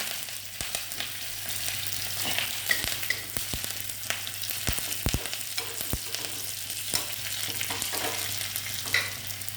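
Curry leaves and shallots sizzle and crackle steadily in hot oil with mustard seeds and fenugreek while tempering horse gram rasam, with sharp pops scattered over a constant fry hiss and no talking.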